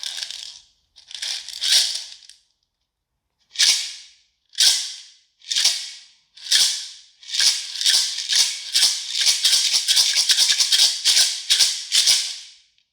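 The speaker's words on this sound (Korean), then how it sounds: "연주 방법은 한 손에 하나씩 손잡이를 쥐고 흔들어서 사용하면 되는데요" Egg shaker percussion instrument with handles, shaken in short separate bursts of bright, gritty rattling, then in a fast steady rhythm near the end, close and crisp, alone.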